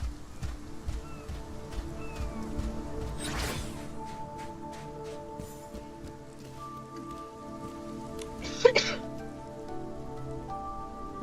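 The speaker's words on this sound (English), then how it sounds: "I love how refreshing the cool raindrops feel." Rain falls in the video game Infinity Nikki as a soft, steady patter of raindrops, faint and continuous, with a brief swish and a couple of light splashes.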